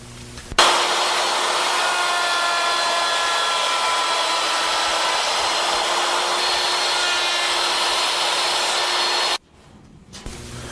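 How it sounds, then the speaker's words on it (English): A handheld router cuts a tenon in a wooden sample, a loud, steady high-pitched whir holding for about nine seconds before stopping abruptly, followed by brief faint handling noise. "Now, we'll cut a tenon on the opposite end of the sample with the new settings."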